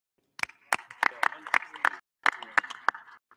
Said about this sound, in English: a round of applause for Madison Square Garden's Joel Fisher